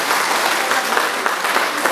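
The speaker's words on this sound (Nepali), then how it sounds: "एकचोटि उहाँको निम्ति ताली बजाइदिनु विशेष अनुरोध पनि गर्न चाहन्छु" An audience at a Magh festival gathering claps, producing a dense, steady burst of applause throughout the short stretch.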